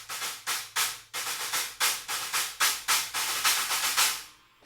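Stacked 16- and 18-inch Paiste thin China cymbals, struck again and again in quick succession, each hit a trashy, clipped crash that cuts off short, ending with a final decay. The hits are close and fairly loud, with no voices.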